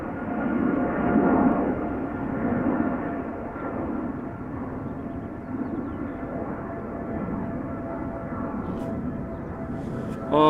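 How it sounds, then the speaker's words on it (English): A Boeing 777 airliner climbs away after takeoff at Amsterdam Schiphol, a broad, distant jet roar rumbling steadily and slowly fading, with radio chatter faint underneath. "we see a triple that has just taken off"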